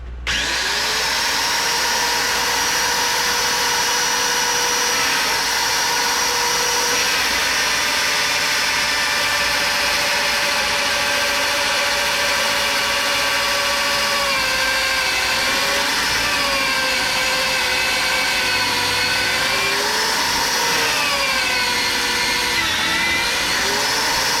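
Power drill running continuously at a steady high whine for the full stretch, loud and close, with slight pitch wavers near the end and no talk.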